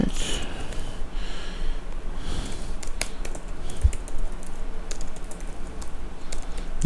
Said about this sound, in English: you guys are going to see what a bad typer I really am, but I'm quick